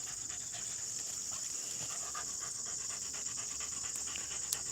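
Hunting beagle hounds pant quietly with rapid, steady breaths, close but faint against a constant high hiss from the outdoor brush setting, with no talking.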